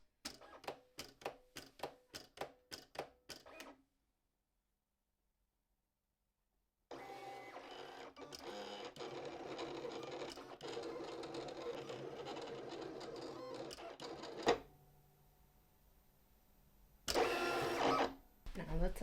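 A Silhouette Cameo 4 cutting machine reads registration marks with a quick series of sharp clicks, falls silent, then runs with a steady mechanical whir and buzz as it cuts a printed sheet, ending in a brief louder burst.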